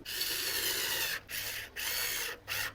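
An electric screwdriver drives screws into a side table during assembly, whirring in four short, close bursts separated by brief pauses.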